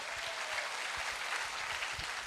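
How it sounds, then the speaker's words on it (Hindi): An audience at a gathering gives steady applause, dense clapping that holds at an even level for a couple of seconds with no talk over it. "चाहेंगे जोरदार ताली हो जाए"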